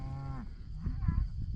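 A Hereford cow and calves moo on a farm, one loud close low moo followed by a rougher lowing call over steady outdoor rumble.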